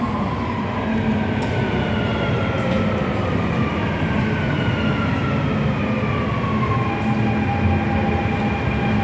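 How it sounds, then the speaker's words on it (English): A Dubai Metro train pulls into a platform, a loud continuous rumble of wheels on rails with rising and falling tonal whine from the motors, close and steady, with no talk. "The train to Etisalat by EN will arrive at platform 1."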